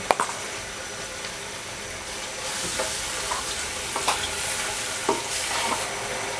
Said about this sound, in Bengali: মশলাটাকে খুব ভালো করে কষাতে হবে আমাদের।